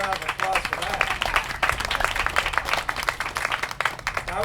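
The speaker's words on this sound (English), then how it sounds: "How about a round of applause for that?" An audience gives a round of applause, steady clapping running the full length with voices and talk mixed in underneath.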